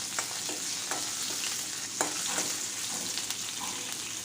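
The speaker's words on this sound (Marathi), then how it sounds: "हिरव्या मिरच्या आणि जिरं जे आहे तेलामध्ये छान असं परतून घ्यायचं" Green chillies and cumin seeds sauté in hot oil, giving a steady, bright sizzling hiss with a few sharp spatula taps and scrapes, close and moderately quiet, with no talking.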